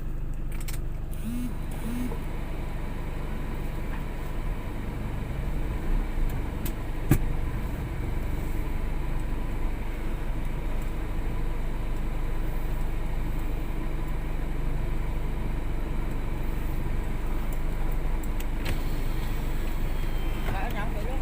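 A car drives with a steady engine drone while it is turned around, the low rumble continuing evenly with no one talking.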